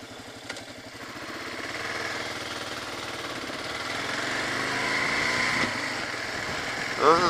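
A Kawasaki KLR 650 motorcycle cruising the Mackenzie Highway in the Northwest Territories, its engine a steady, loud drone mixed with rushing wind noise that swells slightly toward the end.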